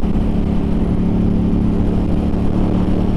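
A Suzuki M50 motorcycle engine drones loud and close while the bike pulls up to speed, a steady, continuous engine note carrying wind and road noise, with no voices.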